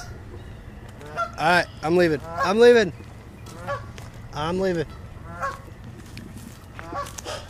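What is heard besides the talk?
goose honking near its nest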